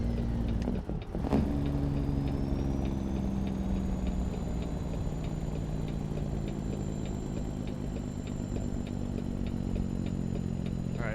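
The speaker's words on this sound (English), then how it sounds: "So I'll let you guys hear the Jake brake on this truck here." Truck engine braking in American Truck Simulator: a loud, steady low engine drone with a rising rev tone and brief mechanical clicks near the start, with no speech.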